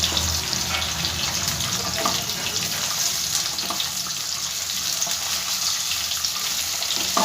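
Potatoes and bitter gourd frying in oil, a steady dense sizzle that holds evenly from start to finish without pause.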